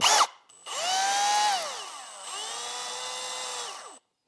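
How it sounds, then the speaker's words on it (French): A power drill whirs in two sustained bursts, its motor pitch rising, holding steady, then winding down, close and loud. "Là, on vient prendre la perceuse."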